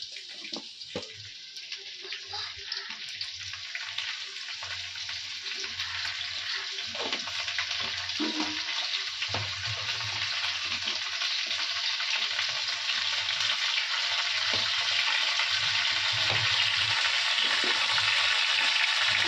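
Ginger paste and spices fry in a pan of already-sautéed potatoes, giving a steady, close sizzling hiss that grows slightly louder, with faint stirring scrapes and no talk.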